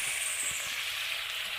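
Chicken fries in a pot with a dense, steady hiss and sizzle, close and continuous, with faint stirring bumps underneath and no talk.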